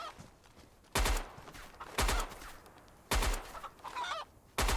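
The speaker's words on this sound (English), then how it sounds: "Goddamn chicken, quit running around!" A chicken in a video game clucks and scurries about, with loud squawking bursts repeating roughly every second over a quieter background.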